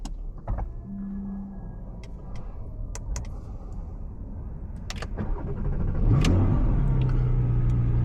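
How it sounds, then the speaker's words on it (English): A Porsche engine cranks and catches up close, with a few mechanical clicks and a whirring motor before the low idle swells and settles into a steady rumble. "let's start up the car"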